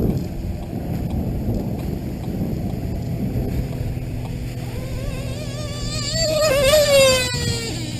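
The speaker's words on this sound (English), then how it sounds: "Getting kind of windy." Gusty wind rumbles steadily across an open stretch of water, with a radio-controlled boat's high motor whine rising and swelling nearby toward the end.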